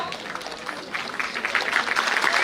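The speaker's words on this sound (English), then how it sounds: "And in police services, a big round of applause." An audience at an award ceremony felicitating police service achievers claps steadily, the applause building louder toward the end of the stretch.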